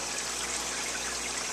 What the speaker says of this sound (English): I got my Magnum, Hot Magnum 250 with a micron filter in it. It's running on it right now